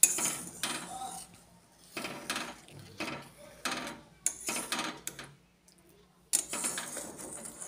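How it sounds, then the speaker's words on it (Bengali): Spoon scraping and clattering in a pan of tomato chutney in a Bengali home kitchen, a run of irregular metallic knocks and scrapes with short pauses, close and fairly quiet. "তো আবার আমি ভালোভাবে নাড়াচাড়া করে নেব।"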